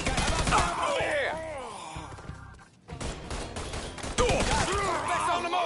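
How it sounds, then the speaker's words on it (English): A heavy gunfight in the video game Mafia III, with dense bursts of automatic and rapid gunfire and sharp shots crowding together, a brief lull, then more firing, loud and close. "Keep firing on him."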